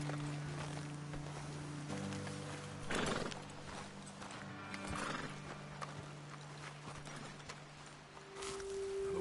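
Horses in Red Dead Redemption 2 clip-clop and whinny just after their riders dismount, with hooves and a neigh heard fairly close over a quiet outdoor backdrop, no talk.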